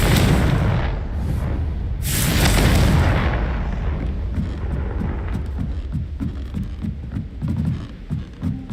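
Confringo explosion spell cast in a Hogwarts video game: a loud booming blast with heavy low rumble that swells around the middle, then fades into crackling debris and scattered small impacts.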